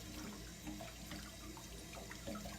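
Water runs and splashes steadily in a sink as a freshly waxed stone pipe is set into lukewarm water to cool, a continuous close wash of sound with no talk.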